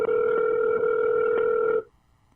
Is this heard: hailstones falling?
no